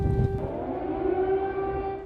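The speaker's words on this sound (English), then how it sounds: "The sirens sounding only later." A steady, droning air raid siren wails at a sustained pitch in eastern Ukraine near Soledar and Bakhmut, loud and continuous, with a brief rustle at the start.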